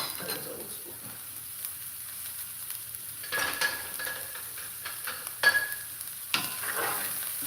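Onions frying in hot oil: soft hiss with a few louder sizzling bursts and stirring clatter, fairly quiet and close.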